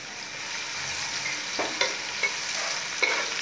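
Spice paste with a few pieces of whole garam masala frying in a pan for spicy chicken biryani: a continuous close sizzle broken by a few sharp stirring clicks.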